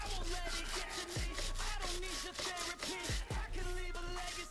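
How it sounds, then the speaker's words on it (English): A brush scrubs a motorcycle chain in steady, rapid back-and-forth strokes, a continuous loud rasping with a rhythmic pulse throughout. "I'm going to get the brush in there and start to give it a good scrub."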